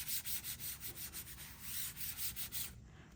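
Tape is rubbed repeatedly against a surface to fuzz it during an Americana craft project, a rhythmic series of close, scratchy strokes for nearly three seconds before the sound stops abruptly.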